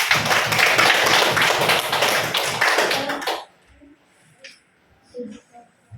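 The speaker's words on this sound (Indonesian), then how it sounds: "Kita berikan aplaus dulu" A classroom of students applauds a student during a lesson, with dense, loud clapping for about three seconds that stops abruptly and gives way to quiet room sounds and faint voices.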